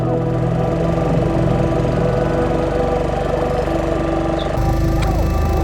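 A boat engine chugs on Pulicat Lake, a loud, close, steady knocking drone that holds without pause and shifts in tone near the end.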